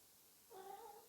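A pet cat gives a single short, soft meow or trill, faint and close, over a quiet room hiss.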